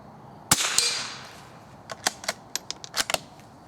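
.22 rifle shots at squirrel and rabbit targets come as one sharp crack followed by a quick run of lighter snapping hits and clicks. They are close and crisp, with no voices.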